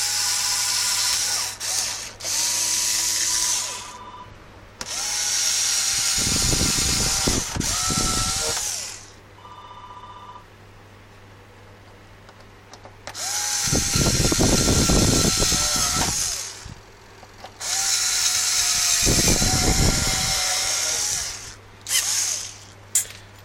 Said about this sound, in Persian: با یه مته که به شماره پیچمون بخوره و همزمون سوراخ پیچمون باشه، جای خروج پیچ رو سوراخ میکنیم